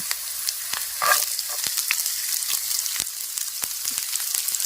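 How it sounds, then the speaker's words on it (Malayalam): Sliced onion frying with green chili and ginger for a quick curry, a steady close sizzle with scattered crackles and pops and an occasional stir, no voices. "അപ്പോൾ നമ്മുടെ പച്ചമുളക് ഇഞ്ചി ഒന്ന് വാടിയിടുന്നിടത്ത് നമ്മൾ സബോള ഇടാം."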